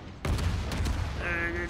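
Naval guns fire in World of Warships, a sudden loud volley bursting in with booming rumble and a brief following salvo, close and dense.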